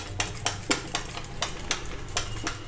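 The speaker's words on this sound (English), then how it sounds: "Now we have to whisk the cake mixture vigorously" Eggless semolina cake batter, a sooji or ravva mix, whisked vigorously in a bowl, giving repeated sharp clinks of the utensil against the bowl's sides in an uneven rhythm over a steady low background hum.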